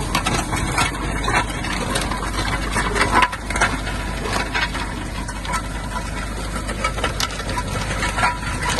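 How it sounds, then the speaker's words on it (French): Stones rattle and grind steadily inside a working machine, a dense continuous clatter with scattered sharper knocks. "ça fait du bruit les cailloux"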